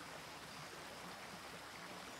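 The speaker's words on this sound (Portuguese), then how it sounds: "O riacho é bonito." A flowing creek in a Bluey cartoon, a steady broadband rush of running water, continuous and even with no voices.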